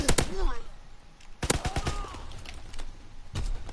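Bursts of MP40 submachine gun fire in a video game crack out in quick rapid volleys, some close and loud, others thinner, mixed with scattered in-game effects.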